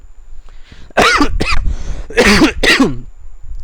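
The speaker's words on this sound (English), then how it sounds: "No corona, this is only normal cough." A person coughs several times close up, harsh rough bursts in two clusters with a brief throat-clearing pause between them.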